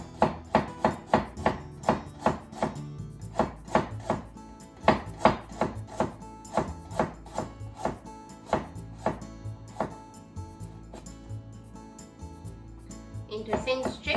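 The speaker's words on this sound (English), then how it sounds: "And ginger. Make thin slices." Ginger cut into thin slices and strips with a knife on a board, a steady run of crisp chopping taps close up, some in quick bursts, with no talk over them.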